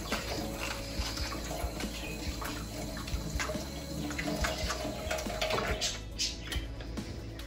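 Really hot tap water runs steadily into a sink while oil paint brushes are scrubbed and rinsed under it, a loud continuous splashing rush with small knocks and clatters throughout.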